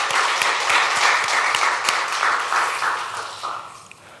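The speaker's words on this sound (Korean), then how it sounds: "우리 하나님께 영광의 박수 올려드리겠습니다." A church congregation at a Sunday worship service applauds together, a full, steady wash of clapping that fills the room and gradually fades away near the end.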